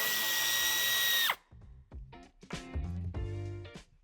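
A power drill or screwdriver on a BMW X5 G05 (2023) whirs steadily for about a second as it backs a screw out from under a front bumper trim molding, then stops abruptly, followed by clicks and rattles of handling.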